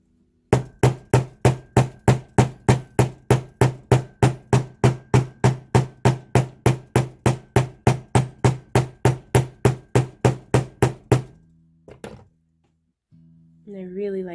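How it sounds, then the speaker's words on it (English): Steady run of about thirty sharp, evenly spaced hammer blows on wire earrings, loud and close, stopping abruptly before a brief voice at the end. "I'm going to hammer that on this one as well."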